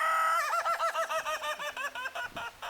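Chickens at Shady Grove Farm, among them three roosters and several hens, give a close, rapid run of about a dozen evenly spaced clucking calls after a brief opening squawk. No one talks.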